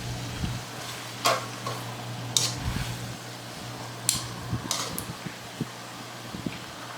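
Steak for Puerto Rican bistec encebollado sizzles in a pan, half-cooked; a moderate frying crackle sits under a low electrical hum, punctuated by scattered scrapes and sharp clicks of utensils.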